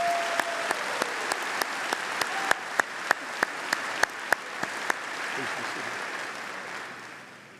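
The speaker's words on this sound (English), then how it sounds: "Let's have a round of applause for these university leaders." A commencement crowd at Auburn University applauds its university leaders, broad sustained clapping with a few sharp, rhythmic close claps standing out before the sound gradually fades.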